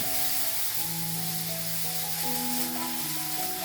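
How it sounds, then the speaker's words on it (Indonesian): Mushrooms sauté in a pan with a steady frying sizzle hissing beneath louder background music. "Lalu tumis jamurnya sebentar dulu."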